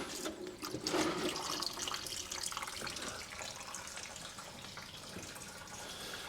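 Coolant water splashes and trickles from a 2007 Ford Fiesta 1.6 petrol engine as the thermostat housing comes off, a steady pouring hiss that fades slightly over several seconds, with no talking.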